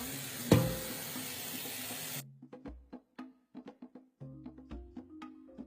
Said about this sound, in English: And then now we will add water and cook.